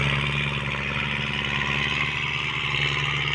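A farm tractor engine runs at a steady idle, a loud, close, even drone with a low rhythmic throb throughout, and no talking.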